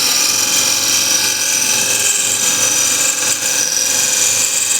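A wood scraper cuts spinning wood on a lathe, giving a steady, loud, high hissing and whirring drone with little variation over a few seconds; no talking.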